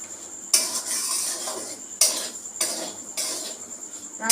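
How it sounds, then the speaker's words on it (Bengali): A utensil scrapes and clatters around a pan, stirring dalia (broken wheat) with vegetables in repeated close strokes, with sharp metallic scrapes at the start of each pass. "ওর সাথেই ডালিয়াটা আমি সবজির সঙ্গেই একটু মিক্স করে নেব।"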